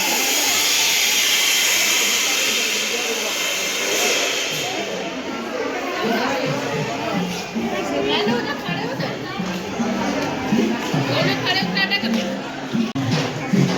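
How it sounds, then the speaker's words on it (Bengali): A dense crowd fills a busy railway station platform at Tirupati, a steady wash of overlapping chatter and hiss that stays loud and close throughout, with no single voice standing out. "স্টেশনে প্রচুর ভিড়।"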